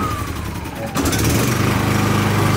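A gas portable generator with its choke engaged cranks and catches, then settles into a loud, steady close-up engine drone after about one second of starter noise.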